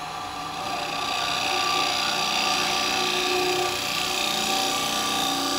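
A wood lathe rough turning wet wood with a carbide tool gives a steady, loud, broadband scraping hiss that runs without a break from start to finish, with no talking.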